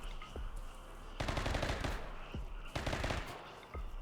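Rapid bursts of automatic gunfire from a Rimworld colony battle rattle in two long volleys, with a few single shots between, fairly faint and without talk.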